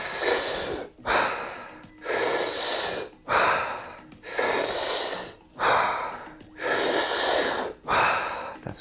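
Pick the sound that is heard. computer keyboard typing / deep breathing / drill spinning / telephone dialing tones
deep breathing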